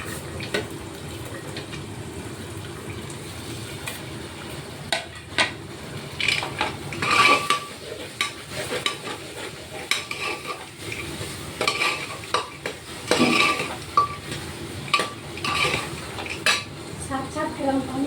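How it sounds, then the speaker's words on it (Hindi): Vegetables tipped into a hot pan and stirred for a mixed vegetable dish, with steady frying sizzle under repeated clinks and scrapes of a spoon against the metal pan, close and fairly busy throughout. "अब सारी सब्जियों को डाल देते हैं।"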